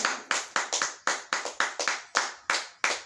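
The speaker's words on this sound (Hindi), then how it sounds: "ताली बजाओ कैसे FRCS होता है।" Audience clapping at a Hindi talk: roughly a dozen separate, sharp claps spread unevenly over three seconds. The claps are close and moderately loud, with no voices.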